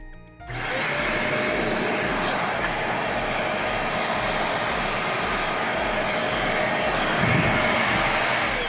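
A Riccar R25 upright vacuum cleaner runs steadily after its brushroll motor breaker is reset, switching on with a sharp rise into a loud, continuous motor whine and roar that holds unchanged to the end.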